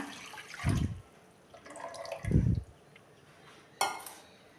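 Thick jaggery syrup glugs and splashes into a metal pot in two heavy bursts, followed by a sharp clink of utensils.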